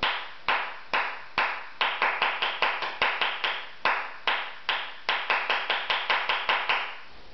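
Flamenco palmas hand clapping at a fast tempo, a close series of crisp, sharp claps in quick rhythmic bursts with short pauses between groups, alone with no voices.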